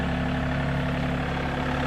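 A tractor engine idles steadily close by, a continuous low rumble with an even rhythmic throb and no change in pace, with no talking over it.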